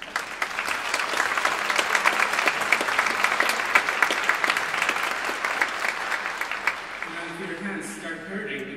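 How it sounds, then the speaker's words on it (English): Audience applause at a 2014 music festival concert: a dense, even wash of many hands clapping for several seconds, fading slightly as a voice begins speaking near the end. "I think she also deserves a big round of applause."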